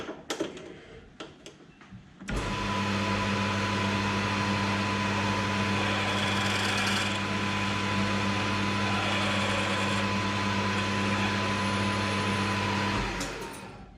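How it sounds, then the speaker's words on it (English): A lathe starts abruptly and runs at a steady, loud whine with an even hum for about ten seconds while drilling a hole with the tailstock, then spins down. "I'm going to have to drill this next hole with the graduations on the hand wheel of the tailstock"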